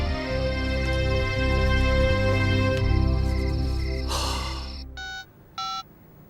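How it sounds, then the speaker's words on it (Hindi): An old landline telephone rings in a Hindi film scene, a sustained electronic ring tone that sweeps up into a burst, then two short separate rings follow with gaps between them. No one speaks. "गुप्ता जी का फोन था।"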